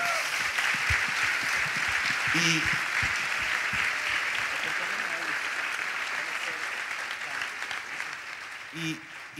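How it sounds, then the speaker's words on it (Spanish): Audience at a church youth forum applauding the young people, a steady spread of clapping that fades gradually, with a few voices and shouts mixed in. "Yo creo que le demos un aplauso a todos los chicos"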